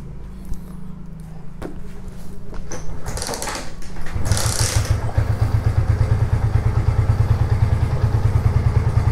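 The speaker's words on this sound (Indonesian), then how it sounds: "Kita nyalakan mesinnya." A Honda Tiger motorcycle engine catches after some mechanical clatter, then settles into a loud, close, steady idle with an even rapid thump throughout, no voices.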